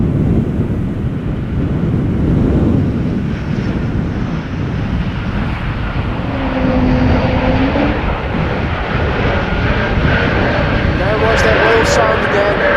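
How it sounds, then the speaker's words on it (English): A KLM Embraer E2 195 arriving at Amsterdam Schiphol on a breezy day after a storm gives a steady, rising jet roar mixed with gusty wind buffeting the microphone, with voices present. "KLM Flight 1994, it's an E2 Embraer 195"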